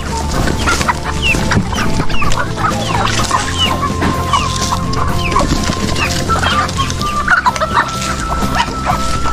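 A flock of farm chickens clucks and squawks continuously at feeding time, loud and close, with scattered higher calls over a dense busy chorus.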